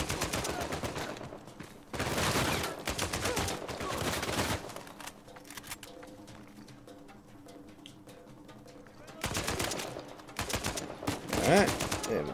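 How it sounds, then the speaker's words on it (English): Gunfire in Uncharted 4 comes in dense automatic bursts and fusillades, loud and near, with pauses of quieter background between volleys and a final burst of shots near the end. "I'm just gonna shoot it up."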